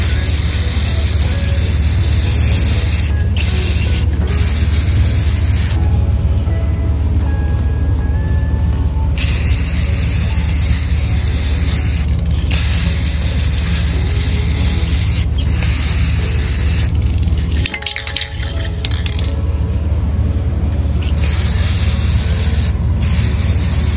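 Rust-Oleum Brilliant Coat Metallic spray paint hisses steadily from a can onto fall home decor, a loud close spray that runs almost without pause and cuts off for a few brief gaps.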